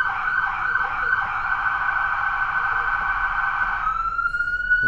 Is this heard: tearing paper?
no